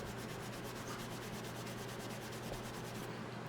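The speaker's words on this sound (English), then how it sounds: "to really make it shine, we're going to use the steel wool as well" Steel wool rubbing along the metal frets of a guitar to polish them to a high shine, a steady close scratchy scrubbing with a repeating back-and-forth rhythm, heard alone without talk.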